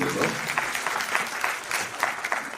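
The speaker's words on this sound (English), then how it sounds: "A round of applause for Mr. Name." An audience at an economics summit claps steadily, a dense patter of many hands, lively and fairly close, lasting the whole moment.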